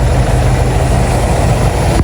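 A low motorcycle's engine runs at a steady idle, close and loud, a continuous low rumble with no talking over it.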